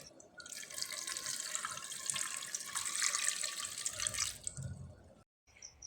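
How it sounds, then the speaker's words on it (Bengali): Water pours steadily into a pressure cooker holding whole potatoes, a close, continuous rushing splash lasting several seconds before it stops abruptly, with no talking. "এবার জল দিয়ে দিতে হবে।"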